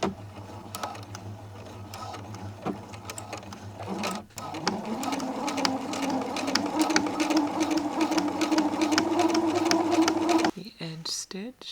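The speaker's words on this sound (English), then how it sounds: "I will edge stitch along the front of this." Sewing machine edge stitching along the front of a pink wrap dress, a close, steady mechanical whir with rapid needle ticking that runs several seconds, stops briefly, then resumes at a higher pitch before ending.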